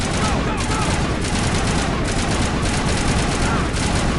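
Dense, continuous gunfire from a firefight in Mass Effect Legendary Edition on Insanity difficulty, loud, rapid bursts layered with booming impacts throughout, a voice occasionally heard beneath the shooting.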